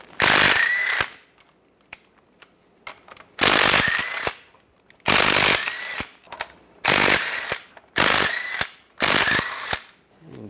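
Ratchet with a 15mm socket turning CV shaft bolts on a 2007-2013 Chevrolet Silverado 1500, five loud bursts of rapid clicking separated by short pauses, close and alone.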